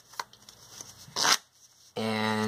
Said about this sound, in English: Alright, so we can give the cards a mix.